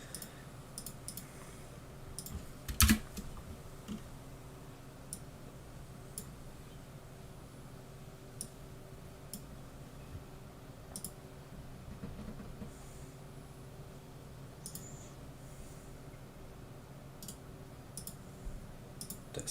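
Keys clicking on a computer keyboard while a game is played alongside Unity development: sparse, scattered taps over a steady background hiss, with one louder knock near the start and no voices.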